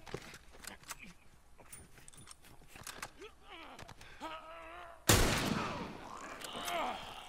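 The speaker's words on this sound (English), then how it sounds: "I do wanna try out my shoddy gun" Gunfire from a shoddy gun in the video game The Last of Us, with scattered game sounds and then a loud sharp shot near the end that rings out, under game voices.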